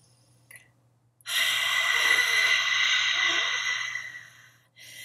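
A single long, forceful exhale pushed through the throat in a raspy Darth Vader-style breath, steady and close for several seconds after a quiet pause, with no talking over it.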